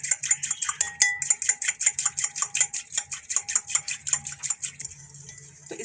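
Biscuit dough mixed with roasted cumin in a bowl, a quick regular run of bright clinking and tapping strokes, close and crisp, slowing and softening near the end.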